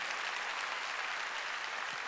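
A church congregation at a Korean Wednesday worship service claps together, a brief burst of steady, fairly soft applause throughout.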